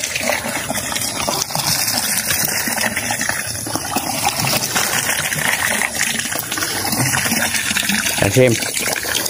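Water gushes and splashes as a bucket is poured out for a cow to drink, a continuous loud pour with a brief burst near the end, while people talk over it.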